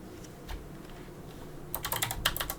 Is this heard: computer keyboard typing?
yes